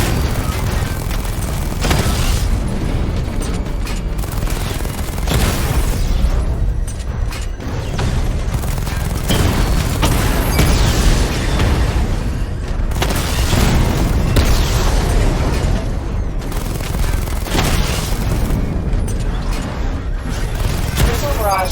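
Missile barrage explosions from the video game Batman Arkham Knight boom in repeated loud bursts and rolling blasts, dense and continuous throughout, with game voices speaking over the action.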